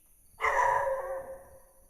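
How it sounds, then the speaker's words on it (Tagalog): A single burst of dog barking in an abandoned school, fairly close and loud, with a brief harsh call that trails off over quiet background rustle. "May aso."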